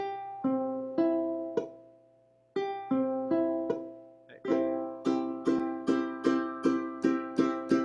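A ukulele with muted strings plays plucked and strummed chords, starting slow and sparse, then settling into a steady run of crisp, evenly spaced strums.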